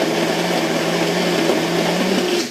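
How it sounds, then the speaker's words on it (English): A personal blender whirs steadily as it purées sun-dried tomatoes for a creamy gazpacho, its loud continuous motor drone holding for the whole stretch with no talk over it. "we have our personal blender right over here"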